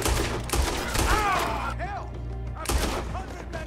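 Gunfire in a jailhouse in the Western video game Red Dead Redemption 2, a few sharp shots and thumps mixed with game character voices and shouting.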